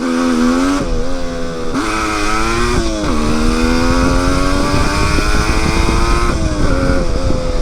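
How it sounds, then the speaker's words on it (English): Suzuki GT550 two-stroke triple motorcycle under hard throttle with the rear tire spinning, a loud, close, buzzing engine wail rising and falling through several revs, steady and unbroken throughout. "Hit the throttle hard and the rear tire will spin out."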